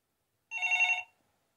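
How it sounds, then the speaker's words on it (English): A telephone rings once during a dial-up modem connection, a short bright electronic trill lasting about half a second, clear and isolated against silence. "The telephone when it's going off."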